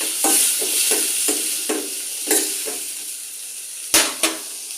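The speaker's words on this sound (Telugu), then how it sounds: "ఈ టొమాటో, మిర్చి, ఆనియన్ బాగా మగ్గిపోనివ్వాలి అన్నమాట." Tomato, chili and onion fry in a pan for a spicy onion chutney, a continuous sizzle punctuated by repeated stirring taps and two sharper clanks of a utensil against the pan near the end.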